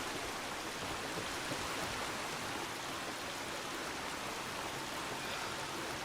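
A water feature built on a Fallout 4 farm settlement gives a steady, even rush of flowing water, a dense hiss that stays level and unbroken throughout with no voices.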